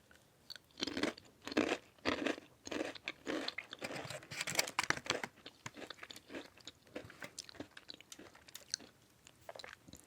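Plain butter-flavoured Japanese crisps are crunched and chewed close to the microphone in a rhythmic run of sharp, crackly bites followed by softer, steady chewing, with no talking.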